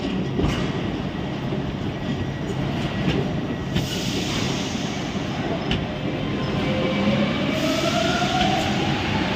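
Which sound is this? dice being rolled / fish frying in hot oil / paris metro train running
paris metro train running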